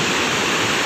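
Rushing water at Bhimkund waterfall, a broad, steady roar of falling water that fills the whole short moment at close range with no voices.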